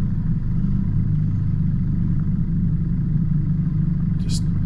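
4WD vehicle easing over rock steps on a tight bush track in Chiltern Mt Pilot National Park, a steady low engine rumble close up with a brief high scrape near the end.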